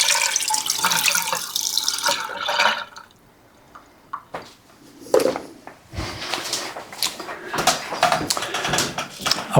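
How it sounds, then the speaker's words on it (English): Water from a pot of boiled potatoes pours off into a kitchen sink, a splashing rush up front that pauses, then returns in uneven gushes and clattering drips. "let me drain this water off because we won't need the water"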